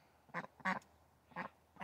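Ducks from a breeding flock quack in four short, loud, close bursts with brief pauses between them, and no other sound competes.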